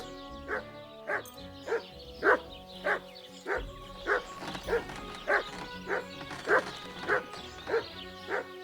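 A dog in a video game barks in a steady series of about a dozen sharp, evenly spaced yips and woofs, loud and close, with faint whimpering between them.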